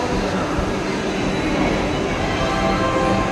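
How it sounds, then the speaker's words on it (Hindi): A Vande Bharat train rumbles steadily at Anand Vihar railway station, with a loud, continuous rail and carriage roar that holds throughout and has no talk over it. "ये ट्रेन जो है वंदे भारत यहीं आनंद विहार रेलवे स्टेशन तक ही आती है"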